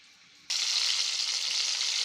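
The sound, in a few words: chicken shashlik frying in a pan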